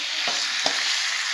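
Meat with turmeric being sautéed in a pot for biriyani gives a steady, close sizzle, broken by two brief stirring scrapes early on.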